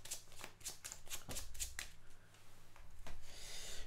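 Playing cards from the Villainous board game are shuffled in a quick run of crisp flicks and rasps, close but quiet.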